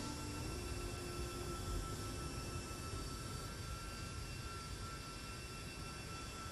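Eurofighter jet engine in a flight simulator game: a steady, continuous, broadband roar with a faint whine, unchanging in level throughout and without talking.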